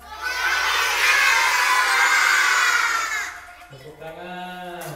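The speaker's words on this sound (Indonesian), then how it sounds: "Tepuk tangan." Applause and cheering from a crowd at a children's angklung performance by an elementary school, a dense sustained roar of clapping that fades, followed by a voice speaking.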